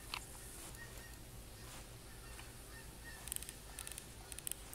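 Ducks quack in the hunting game The Hunter Classic, with a few short bursts toward the end over steady outdoor ambience.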